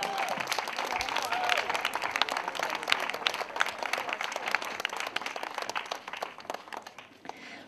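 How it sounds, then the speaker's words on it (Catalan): An outdoor crowd at a women's five-mile running race applauds a runner, with dense clapping that swells and then gradually thins out, while a voice speaks over it. "Un fort aplaudiment per ella."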